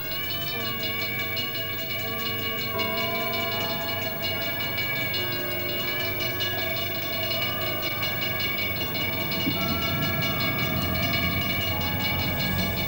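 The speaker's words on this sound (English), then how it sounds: "we were able to pick up the sound of the train in the far distance, whistling for distant crossings" A train at night sounds its whistle for distant crossings in long, sustained tonal blasts that hold steady over a low, continuous rumble, with no talking.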